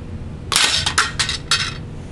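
A coil gun shot smashes open an old cassette tape case, a sharp crack followed by several bright clinks and rattles of plastic shards over about a second, close and loud.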